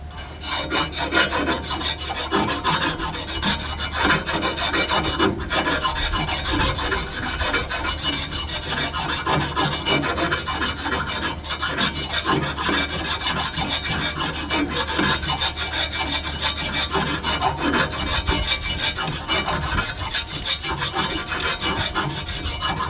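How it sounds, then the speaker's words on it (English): A round file rasps back and forth against metal in the steering of a John Deere 175, steady repeated strokes, close and continuous throughout, with no talking. "I'm going to start with this round file. Just going to go down there and knock out anything that's loose."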